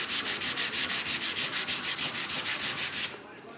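Rhythmic hand sanding on a 1968 C10 grill shell, steady back-and-forth scuffing strokes close up, about a dozen even passes before stopping abruptly near the end.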